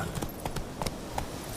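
Roach, the horse in The Witcher 3, gallops with a steady clip-clop of hooves, a regular rhythmic beat of fairly even loudness under a constant background wash.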